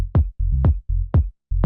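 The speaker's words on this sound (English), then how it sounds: "So, the first thing we've got going on here is this kick and bass combo," A minimal house kick drum and bass combo: four punchy kicks in an even groove, each locked with a short deep bass note between them, close and clean, with no voices.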